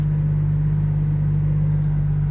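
BMW M235i Convertible engine idling after starting, a steady low rumble with a constant hum, loud and close, unchanging throughout.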